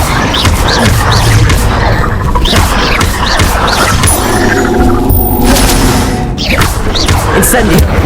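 A fire spell cast in Hogwarts Legacy, with dense crackling blasts, booms and thuds layered over continuous game music and effects, loud and busy throughout, with some voice-like sound mixed in.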